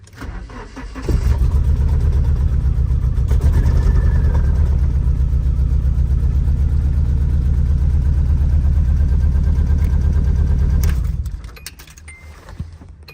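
A Nissan 240SX cranks briefly and fires, then runs at a loud, steady, slightly rough idle for about ten seconds before shutting off, recorded up close.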